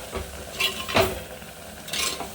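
Prawn roast masala being sautéed and stirred in a pan in a Kerala kitchen, with a few scraping, clinking strokes of the utensil over a soft sizzle, close and moderately loud.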